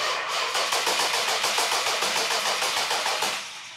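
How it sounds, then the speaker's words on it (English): The starter cranks a Plymouth Hemi Cuda's engine over in a fast, even rhythm of repeated whirring pulses that is close and steady for a few seconds, and the engine never fires. "So please crank the engine over."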